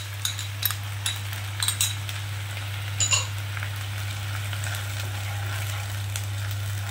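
Ginger, garlic, green chili and tomato sizzle steadily in a pan, with a few light clinks of a utensil stirring near the start and around the three-second mark.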